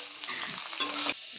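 Drumstick curry ingredients frying in a pan with turmeric and salt, a steady close sizzle with scraping stirring strokes and a louder burst of spatter midway, no voices.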